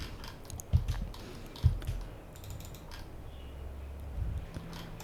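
Quiet computer keyboard typing sounds, a few sharp key clicks and soft taps at close range against a faint background hum.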